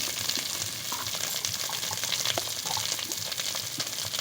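Turmeric and chili powder going into a pan of frying fish roe curry, a steady loud sizzle and bubbling with light stirring clatter throughout, no talking.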